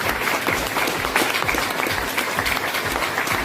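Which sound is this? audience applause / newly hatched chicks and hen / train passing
audience applause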